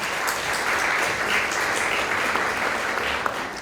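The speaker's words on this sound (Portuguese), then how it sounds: "Uma salva de palmas mais uma vez." Steady applause from an audience at a medical symposium on obesity, dense even clapping filling the hall for several seconds at a constant level.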